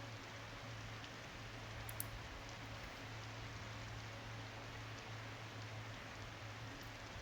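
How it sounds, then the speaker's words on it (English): Steady, even rain falls in the video game Skyrim, a dense unbroken hiss with a low hum underneath that stays at the same level for the whole stretch, with no voices. "It's raining."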